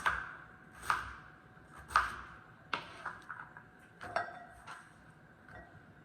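A knife chops sweet potato into cubes on a board, with about eight sharp, fairly quiet knocks at an uneven rhythm and a faint ringing after some strikes.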